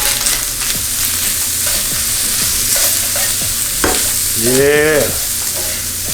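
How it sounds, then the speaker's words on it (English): Lamb stir fry with garlic and green onion sizzling and being stirred in a hot pan, a steady close frying hiss throughout, with a brief voice partway through. "Now it's smelling beautiful."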